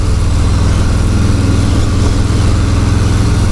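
A 2018 Harley-Davidson Street Bob FXBB Softail on a test ride, its V-twin engine rumbling in a steady, loud low drone with no gaps, no one talking over it.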